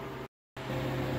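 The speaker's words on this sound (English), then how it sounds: "But we're waiting for the freeze dryer to get cold." Freeze dryer running steadily while chilling down before a batch of carrot slices, a continuous mechanical hum with a brief gap of silence partway through, then resuming at the same level.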